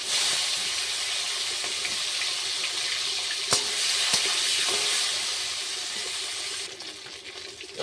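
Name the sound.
fish frying in hot oil in a pan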